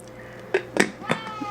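A pet cat meows indoors, giving three short close cries in quick succession over a faint steady room hum.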